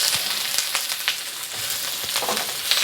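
Onions frying in neutral canola oil in a wok, a steady close sizzle with scattered crackles and pops throughout, no voices.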